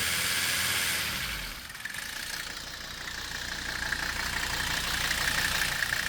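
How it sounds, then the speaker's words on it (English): A Mercedes W126 engine idles steadily with the A/C running, a continuous hum that dips briefly and then settles back to an even drone. "It goes down when you rev the engine up a little bit,"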